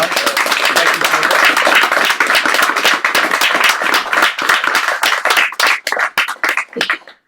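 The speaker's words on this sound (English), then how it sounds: "Let's give George a round of applause." A small audience at a hybrid poetry reading claps for George Kalogeris, dense close applause that thins into scattered individual claps before fading out.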